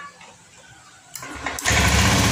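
A motorcycle engine, checked after its fuel tank was drained and its injector cleaned, sits quiet at first, then a sudden rise at about one second gives way to a loud, steady roar of revving held to the end, with no talk.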